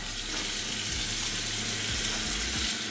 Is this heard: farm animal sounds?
no